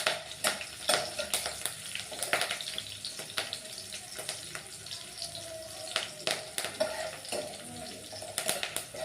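Okra stir-frying with curry leaves in a pan, a steady sizzle under repeated scraping and stirring clatter of a spatula against the pan, close and fairly loud.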